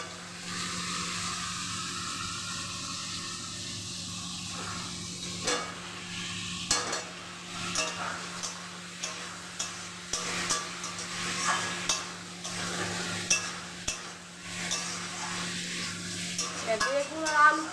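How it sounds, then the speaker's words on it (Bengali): Eggplant and potato pieces sautéed in spiced masala for a rohu fish curry, a low sizzle under irregular stirring and scraping bumps in the pan, fairly quiet and close. "বেগুন আর আলুটা ভালোভাবে আরো কষিয়ে নিই 3 থেকে 4 মিনিট মতো"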